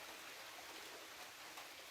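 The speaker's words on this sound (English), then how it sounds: "Getting rain right now though." Steady soft hiss of rain falling, even and continuous, fairly faint with no voices.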